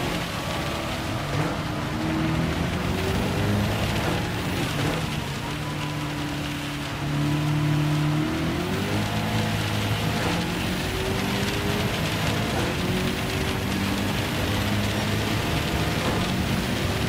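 Steady rain hiss fills an endurance race in Gran Turismo 7 at the Red Bull Ring, with racing cars droning and shifting pitch beneath the downpour throughout, no voices.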